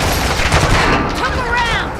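Loud, close, sustained bursts of rapid gunfire fill a video game firefight, dense and continuous with overlapping shots and crackle.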